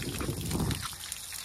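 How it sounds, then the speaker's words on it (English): Water trickles and dribbles steadily out of a flooded engine compartment on an old boat that has just been pulled from the water, a soft close splashing flow that thins out toward the end. "And we still got water coming out of it."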